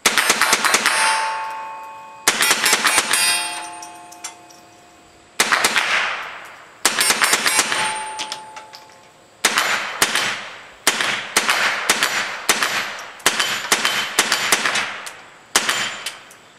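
Sharp .22 LR rifle shots from a CMMG Bravo AR-15 conversion kit firing Remington 22 Thunderbolt ammunition: about a dozen loud, close cracks, each ringing off with a metallic clang, spaced unevenly and sometimes in quick pairs.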